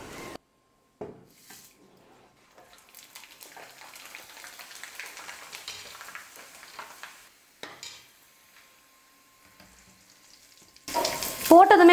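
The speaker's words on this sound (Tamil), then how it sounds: "இப்போ வந்து இந்த சிப்ஸை கொஞ்சம் கொஞ்சமாக போட்டு நம்ம எண்ணெயில் போட்டு பொரிச்சு எடுத்துக்கலாம்." Potato chips are dropped into hot oil and fry in a home kitchen, with soft sizzling and bubbling running throughout. There are a few faint utensil clinks, and a louder clattering burst comes at the end.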